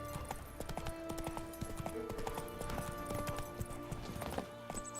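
Horse hooves clip-clop in a steady, brisk rhythm in The Witcher 3: Wild Hunt, close and clear over a low ambient game soundscape with faint tonal hums.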